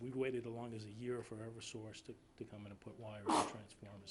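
Someone talks steadily while someone nearby sneezes once, a short, sharp burst near the end.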